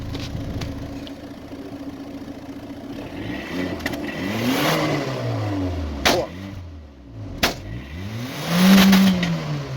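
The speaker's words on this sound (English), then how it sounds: "go ahead and rev it up again" A car engine that burns oil and blows blue smoke is revved repeatedly, rising and falling in several distinct swells over a steady idle, close and fairly loud, with sharp clicks between revs.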